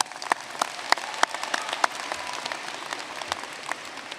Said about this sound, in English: So give yourself a round of applause for that.